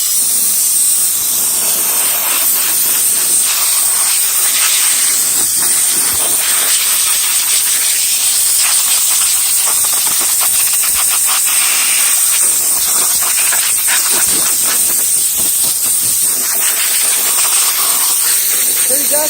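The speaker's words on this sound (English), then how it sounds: "the best way to clean that off is to just use an air hose. So I'm going to get that and we'll blow it out." A compressed-air hose blows dust out of a Behmor 1600 Plus coffee roaster in one continuous, loud, bright hiss that stays steady for the whole stretch, with faint rattles of debris underneath.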